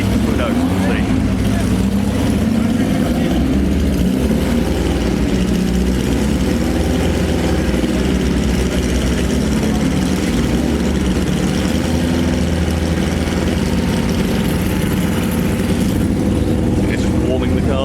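Several car engines idle at Goodwood Festival of Speed with a deep, steady throb, loud and close, while voices murmur in the background.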